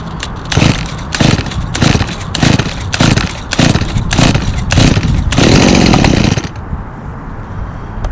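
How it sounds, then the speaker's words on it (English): A chainsaw is started by hand with its chain brake on, giving a run of loud, evenly spaced sputtering bursts close by before settling into a steady idle, with no talk. "Do not drop start a chainsaw."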